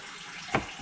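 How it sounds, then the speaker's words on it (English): Hot water runs from a tap while peat pucks are prepared for planting, a faint steady wash of flowing water with a brief louder splash near the end. "Going to get my hot water going."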